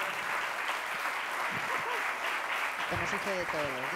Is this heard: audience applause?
yes